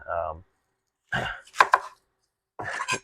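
Onions are finely chopped with a fine-blade chopper for apple-sausage Thanksgiving stuffing, heard as three or four short, close bursts of chopping separated by silent pauses.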